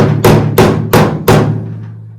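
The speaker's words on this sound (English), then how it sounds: "so now just take a hammer" Four sharp, ringing hammer strikes on a V-notched metal convertible brace of a 1969 Firebird land in a steady rhythm, close and loud, each leaving a short metallic decay.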